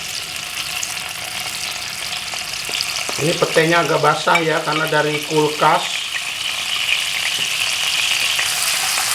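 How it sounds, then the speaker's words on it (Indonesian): Pete (stink beans), slightly wet from the fridge, fry in hot oil with a steady loud sizzle throughout, while someone speaks briefly over it. "Yang pertama kita goreng petenya dulu."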